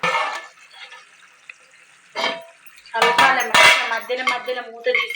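A utensil stirs Telangana-style mutton curry in a metal pot, with several separate bursts of scraping and clanking against the pot, sharp and close, between quieter pauses.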